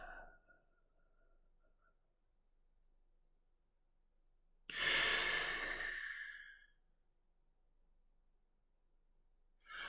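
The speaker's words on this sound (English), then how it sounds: "you let your body do the breathing in, and it'll be a different kind of breath" One long, loud exhaled sigh demonstrating a breath after emptying the lungs, a breathy rush lasting about two seconds amid quiet room tone.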